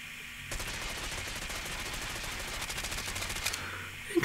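Rapid sustained automatic fire from an AS VAL rifle in Call of Duty Mobile, a dense steady burst lasting about three seconds and loud and close.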